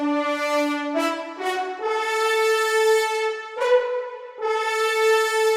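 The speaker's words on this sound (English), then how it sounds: "if you listen to the horn separated here, you can hear there's a mix between short, little swells and crescendos, and the legatos" A solo orchestral horn in a sampled mockup plays a legato phrase of several connected notes with swelling dynamics, clear and alone.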